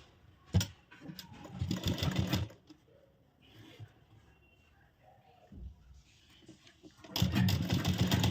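A sewing machine stitches a princess-cut deep-neck blouse in two bursts of rapid mechanical whirring, one early and one at the end, with a quieter stretch of handling noise between them.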